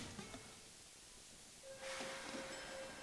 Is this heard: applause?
no